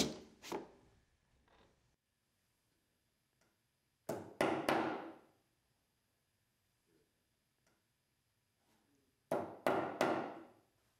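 FastenMaster Cortex deck fastener plugs are hammered into deck boards on stair treads and stringers in three close, loud bursts of two or three sharp knocks each, separated by quiet pauses.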